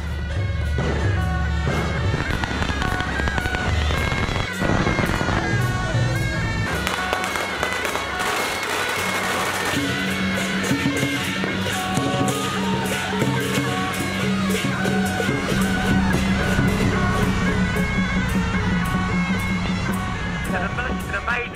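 Fireworks bursting at a lively countryside carnival near Cheshan, a dense, continuous crackle of rapid pops and booms filling the whole stretch with a busy crowd din underneath.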